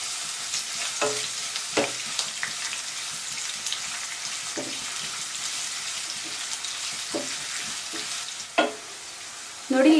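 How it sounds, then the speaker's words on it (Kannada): Sliced onions fry in hot oil in a pan, giving a steady sizzling hiss with occasional louder crackles and stirring clatters, close up and with no talking. "ಎಣ್ಣೆ ಕಾದಿದೆ, ಈರುಳ್ಳಿ ಹಾಕ್ತಾ ಇದ್ದೀನಿ"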